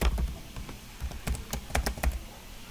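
Fingers type an image path into MATLAB on a computer keyboard, a close, irregular run of sharp key clicks with brief pauses and no talking.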